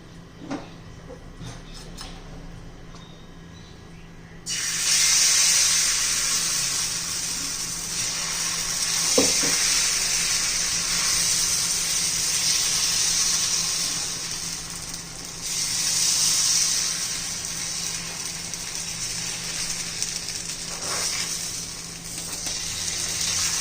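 Beetroot breakfast batter on an oiled pan gives a loud, steady sizzling hiss that starts suddenly after a quieter stretch with a few light knocks, then holds close and continuous, swelling slightly at times.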